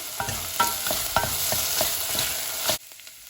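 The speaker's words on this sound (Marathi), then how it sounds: "टमाट अशें भाजून येवया" Tomatoes and okra fry in a pan for a Goan prawn and lady finger curry, a steady close sizzle broken by repeated scraping stir strokes, then cut off abruptly near the end.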